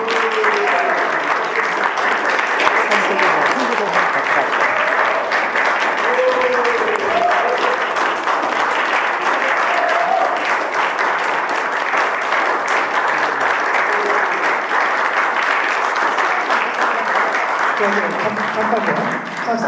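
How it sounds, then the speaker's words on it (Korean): A concert audience at a Korea University hall gives sustained, loud applause as the musicians return to the stage, a dense unbroken wash of clapping with faint voices and calls mixed in. "다시 한번 나와서 박수 한번 받겠습니다"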